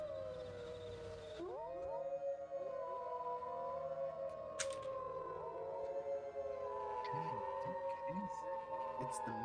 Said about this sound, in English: As you do so, you hear the wolves howling again.